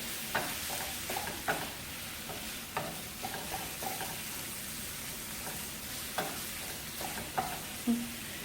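Meat and sausage fry in a pan for noodles while being stirred, with steady sizzling under repeated scraping and clinking strokes of a utensil, close and moderately loud throughout.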